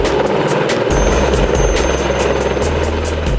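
A rescue helicopter at a family fun day in Taupo gives a loud, close, steady rotor chop with rhythmic blade thumps and a constant engine roar throughout, no voices.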